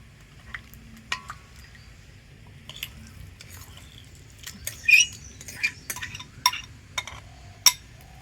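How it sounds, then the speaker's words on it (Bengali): A spoon stirs boiled sago pearls into a hot watermelon mixture in a pot, making intermittent light clinks and scrapes against the metal, close and fairly quiet, with no voices. "তো সাবুদানাটা দিয়ে ভালো করে মিশিয়ে নেব"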